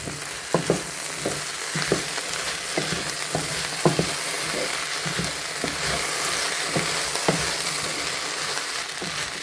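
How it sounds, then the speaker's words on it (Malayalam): Kerala-style potato mezhukkupuratti sizzles steadily in a pan, with a spoon stirring and scraping in irregular knocks over the continuous frying hiss, close and alone. "ഒരു മിനിറ്റ് വരെ ഞാനിതൊന്ന് ഇളക്കുന്നുണ്ട്."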